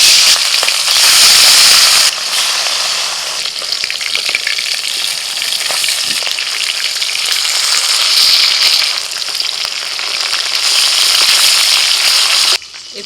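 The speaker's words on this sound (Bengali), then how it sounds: "তেল ভালো করে গরম করে নিয়ে দিয়ে দিচ্ছি মাছ" Fish fry in well-heated oil in a home kitchen, producing a loud, continuous crackling sizzle that surges and settles, with a sharp burst at the start and a sudden drop at the end.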